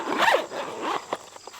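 Zipper on the storage case of a BRS-32 double burner camping stove, drawn in two quick, close rasping pulls followed by a few small ticks as the pull settles.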